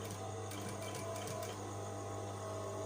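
A sewing machine runs steadily while stitching a shirt collar, a continuous close mechanical hum with rapid needle chatter and no break across the whole stretch.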